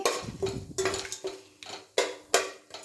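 Whole spices stirred in hot oil and ghee in a metal pot, a spoon scraping and clanking against the pot in repeated rhythmic strokes over a light sizzle.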